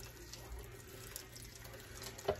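Liquid chicken-flavored mixture poured over stuffing in a crock pot, a soft continuous watery trickle at low level with a small splash near the end, no talking.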